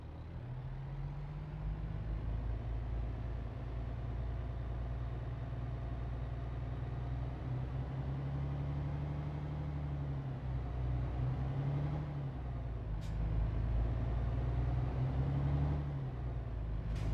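Heavy truck in Euro Truck Simulator 2 pulling away on a Helsinki to Tampere run, a steady deep diesel drone with low harmonic hum, rising slightly as it sets off, continuous and close with no talk.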